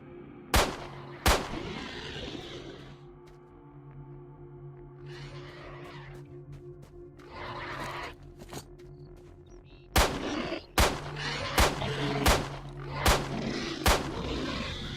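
Pistol shots in the shooter STALKER, sharp loud cracks fired one at a time, two early then a quick series near the end, over a low steady hum and some rumbling game ambience.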